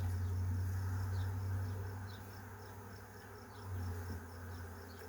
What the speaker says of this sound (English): It's buzzing up a storm around here.